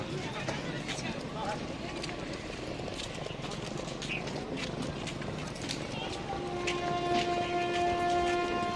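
Train at Sainthia Junction railway station in West Bengal, a continuous rumbling clatter with rhythmic wheel knocks close by and a tonal whine rising near the end, under steady talk.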